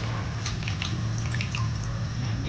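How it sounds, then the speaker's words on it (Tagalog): Banana blossom is dropped into a pot of water in a kitchen, giving soft wet squishing and light splashing over a low steady background hum. "At ilalagay na rin po natin ang puso ng saging."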